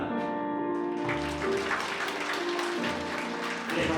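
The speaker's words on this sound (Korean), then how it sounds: "하객 여러분께서는 큰 박수로 감례하여 주시면 감사하겠습니다." Wedding guests applaud at a ceremony as the newlyweds bow, a steady wash of clapping over sustained music, with brief talk near the start.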